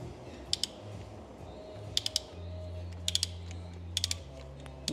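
Ratchet wrench clicking in short bursts of two to three quick ticks while loosening a bolt on a BMW E46 M3 with the S54 engine during an oil change, close and crisp over a steady low hum.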